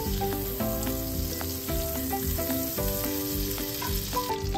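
Olive oil and a piece of butter sizzling in a hot skillet, a steady close hiss with soft crackles throughout, no talking.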